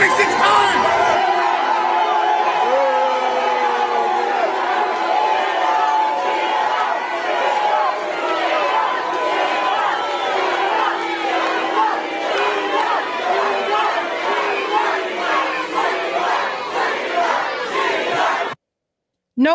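A packed political rally crowd cheers and chants loudly, with whoops and shouts swelling in rhythmic waves, then cuts off abruptly near the end.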